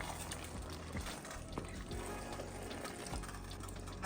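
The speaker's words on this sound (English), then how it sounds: "I put a little bit of water in my can just to get out the rest of that sauce" Water runs and splashes into a 28-ounce tomato sauce can, a steady close trickle with small gurgles and bubbling lasting the whole moment, no speech over it.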